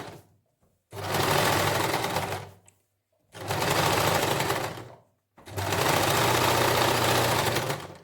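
An electric sewing machine stitches a wool suit neckline in three bursts of rapid, whirring stitching, each lasting a couple of seconds and separated by short silent pauses, close and fairly loud.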